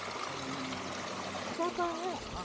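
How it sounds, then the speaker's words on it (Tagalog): A small creek runs through farm property in Real, Quezon, giving a steady, close trickle and pour of flowing water, with a brief voice speaking over it near the end. "May sapa dyan maliit. May sapang maliit."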